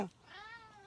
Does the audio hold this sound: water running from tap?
no